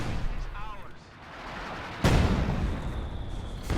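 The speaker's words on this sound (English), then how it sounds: "That's the mortar shell VonIvan's been waiting for." Mortar shells firing and landing in the real-time strategy game Company of Heroes 2, a muffled thump followed by a sharp, heavy blast at the midpoint that rumbles on, with a voice talking faintly underneath.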